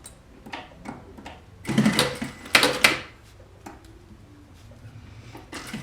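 An industrial sewing machine stitches a pleated cotton mask in short runs, a close mechanical whir and clatter that starts and stops with quiet gaps between bursts.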